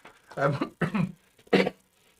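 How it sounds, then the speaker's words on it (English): Three short, harsh coughs from an adult man on a live broadcast, close and fairly loud, the last one separated by a short pause. "That's been about the 3rd time I've ever coughed on air."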